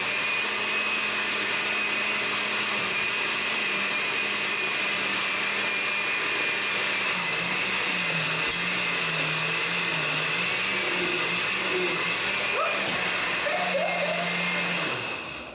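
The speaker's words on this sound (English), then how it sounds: "So let me press blend." A kitchen blender whirs loud and close for a long run, holding a steady motor drone whose pitch wavers as it blends, then cuts off at the end.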